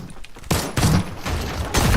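Shotgun blasts in Fortnite, several loud, broadband bursts with gaps between them, close and punchy, over a faint game background.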